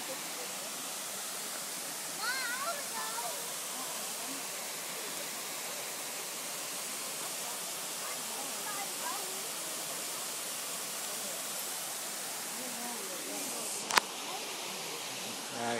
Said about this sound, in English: Got one more look at the Alabama waterfall.